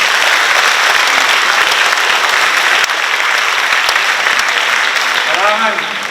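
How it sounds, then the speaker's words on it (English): A big round of applause from an Education Day audience, loud continuous clapping throughout, with a brief voice surfacing near the end. "give them another big round of applause."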